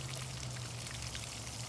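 Water poured into a river erosion model, flowing steadily down the channel in a continuous, close, full-sounding rush and trickle with no pauses.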